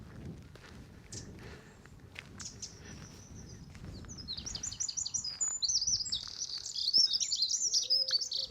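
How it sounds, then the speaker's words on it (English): Birdsong outdoors in the morning, from a wren, a dunnock and a wood pigeon: high, rapid trilling phrases that grow louder and busier toward the end, heard over faint soft footsteps. "Wren, dunnock and wood pigeon."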